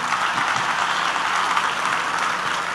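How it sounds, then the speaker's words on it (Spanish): A church congregation claps steadily, a thick continuous patter of many hands at fairly loud level with no break. "Denle ese aplauso al Rey bendito"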